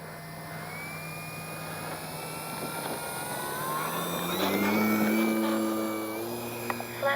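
A Hobby King Yak-11 radio-controlled model plane flies overhead at altitude, its engine a thin, wavering whine that swells as it nears and then fades, over steady outdoor background noise.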